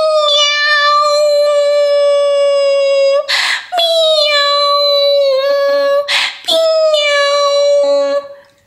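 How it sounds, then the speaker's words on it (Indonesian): A cat gives long, drawn-out, wailing meows, three sustained tonal calls separated by short breathy gaps, loud and close. "itu suara kucing ya."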